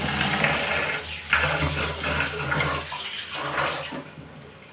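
Moong lentils are washed in water in a kitchen, with a continuous splashing, gurgling swish that surges and eases before trailing off, and no talking.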